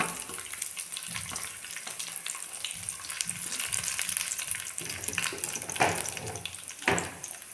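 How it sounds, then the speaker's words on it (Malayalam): Quiet, steady sizzling of dried chillies and curry leaves in hot oil, tempering for a mango curry, with a couple of sharper crackling bursts near the end. "നമുക്ക് വറ്റൽമുളക് ഇടാം അതിലേക്ക് അതുപോലെ തന്നെ കറിവേപ്പില ഇടാം"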